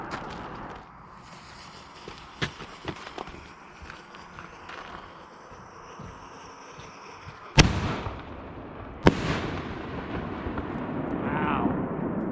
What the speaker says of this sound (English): Those are some banging shells.